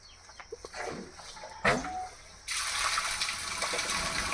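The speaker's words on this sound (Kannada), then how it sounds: "ಇದಕ್ಕೆ ಟ್ಯಾಂಕರ್ ನೀರಿನ ಪೈಪ್ ಮುಖಾಂತರ ಬಿಡಿ ಬೋರ್ಗೆ" Tanker water rushes through a pipe into a borewell, a steady broadband gush that starts abruptly partway through and keeps going, after a few quieter knocks and splashes.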